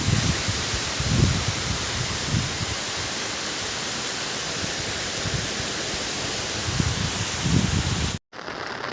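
Heavy night rain, still falling after a storm with strong wind, makes a dense, steady hiss that stays continuous and fairly loud, with a brief dropout near the end.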